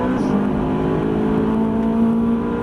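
Ferrari 458 on the Croix-en-Ternois track, engine pulling hard with a loud, sustained tonal roar heard from close by for a few seconds, no speech.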